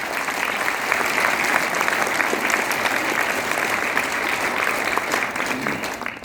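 An audience at a training meeting claps loudly and steadily, a dense, sustained burst of applause filling the room for several seconds with no break.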